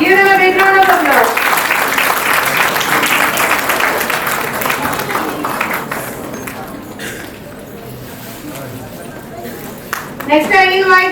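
A crowd at a school results ceremony applauds steadily, loud and sustained, fading somewhat toward the end as a voice starts speaking.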